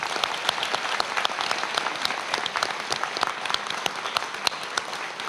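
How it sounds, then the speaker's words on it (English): An audience at a nursing pinning ceremony gives a sustained round of applause, dense steady clapping throughout with a few sharper individual claps standing out. "Please join me once again in a round of applause to offer thankful acknowledgement."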